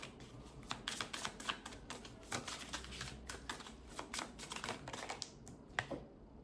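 Tarot cards being shuffled by hand, a quick run of crisp flicks and soft riffling taps that goes on near and fairly quiet, with no talk.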